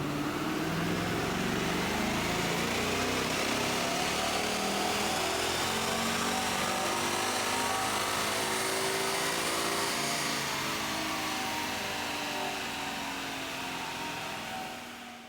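A 2015 Ford Mustang GT with an automatic transmission runs hard on an in-house dynamometer, a steady, dense engine roar building and holding for several seconds before easing off slightly at the end, with no talking.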